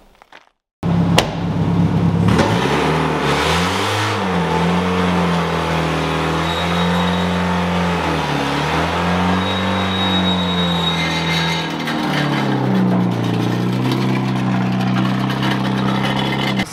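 A stunt car's engine starts up and revs repeatedly, rising and falling in pitch over a loud steady drone, close to the listener and with no talking.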